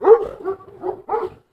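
A Kangal shepherd dog, excited and stressed by a crowd of people, gives four deep, gruff barks at close range in a quick, uneven series with no talking.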